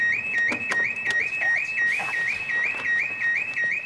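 A truck's alarm sounds loud and close, a rapid repeating rising whoop-like electronic tone cycling steadily, with faint rattling noise in the background.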